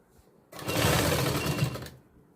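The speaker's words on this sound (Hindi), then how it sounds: "अब ऊपर की साइड में सिलाई लगाते हुए चलना है।" Sewing machine stitching the upper side of a 36-inch katori blouse: a single fast, steady run of stitching about one and a half seconds long, close and fairly loud, with quiet gaps before and after.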